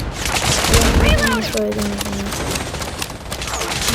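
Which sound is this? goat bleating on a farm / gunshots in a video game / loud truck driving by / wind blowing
gunshots in a video game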